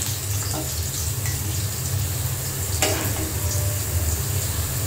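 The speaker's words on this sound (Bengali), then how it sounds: "এই দিক দিয়ে পেঁয়াজগুলা একদম মশমশা করে ভাজা নিতেছি" Onions frying until crisp in a pan in a Bangladeshi home kitchen, a steady close sizzle with scraping stir sounds throughout, no talking.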